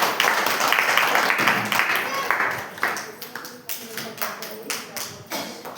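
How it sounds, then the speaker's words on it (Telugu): Congregation at a Sunday worship service in a church clapping loudly together, dense applause at first that thins into scattered rhythmic claps, with a voice speaking over it. "గట్టిగా చప్పట్లు కొడదామండి."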